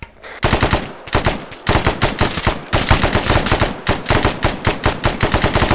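Loud, close automatic gunfire from the Arma 3 video game, in long sustained bursts of rapid shots. The firing breaks off briefly near the start and again around the middle, then resumes. No talking.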